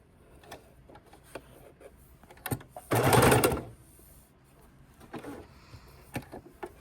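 A sewing machine stitching double-sided bias binding with elastic through it onto a fabric baking dish cover, with short soft stitching bursts and one loud sustained run of stitching in the middle, no talking.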